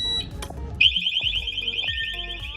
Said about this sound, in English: They all produce loud alarms up to 120 decibels each.